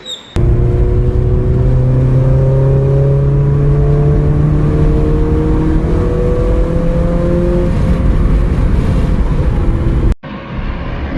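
Race cars circle a dirt track at New Smyrna in the distance, their engines droning with steady rising and falling pitch sweeps throughout, loud and continuous with no talk.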